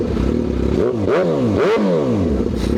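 Suzuki GSX-R1000 sport bike engine blipped twice while still cold, loud and close, each rev sweeping up sharply then falling back to a steady idle between.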